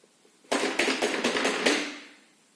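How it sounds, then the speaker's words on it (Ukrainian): About half a dozen quick, even knocks rap out close and fairly loud over light room noise during a lesson for young children. "а хто це до нас наче стукає?"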